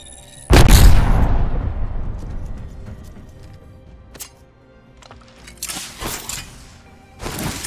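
An Arc Star grenade detonates in a video game firing range: one loud, close blast near the start, then a long rumbling decay and a few sharper bursts and pops toward the end.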